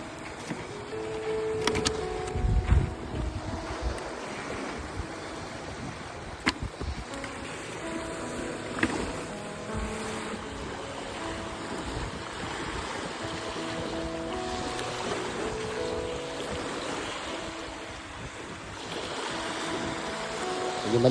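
Sea waves slosh and wash against a boat continuously, with wind noise and a steady hum, occasional louder splashes and knocks throughout.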